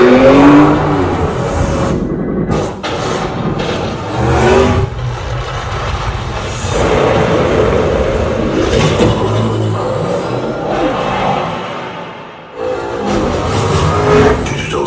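An Isuzu 2.2 Ddi MaxForce pickup engine revs and accelerates, rising and falling in repeated loud bursts with brief quiet gaps between runs, heard close over roughly fifteen seconds.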